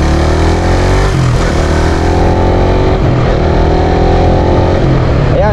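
A Raider Fi motorcycle engine revs loud and close, rising and falling in pitch as it speeds up and downshifts, with repeated throttle blips sweeping up and down.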